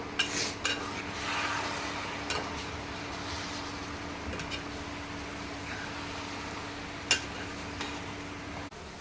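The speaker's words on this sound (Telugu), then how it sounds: "ఇప్పుడు మనం కట్ చేసి పెట్టుకున్న ఈ స్ప్రింగ్ ఆనియన్ దీంట్లో వేసుకుందాం స్ప్రింగ్ ఆనియన్ ఒకసారి కలుపుకుందాం" Spring onions being stirred into an egg curry in a pan, with a steady soft sizzle and scraping under a few sharp utensil clinks, no talk.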